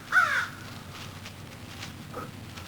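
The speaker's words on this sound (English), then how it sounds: "enjoy the crows flying over" A single loud crow caw near the start, followed by a fainter caw later, over quiet outdoor background.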